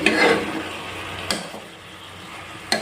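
Chicken with masala stirred in a pot for pulao, a soft scraping stir near the start with a gentle sizzle underneath and two brief clinks of the utensil.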